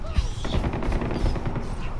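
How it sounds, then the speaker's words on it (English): Gunfire in the video game Far Cry 4 during a dark night scene, a dense run of rapid shots and bursts crackling continuously through the moment, fairly loud, with a faint voice underneath. "And gunfire."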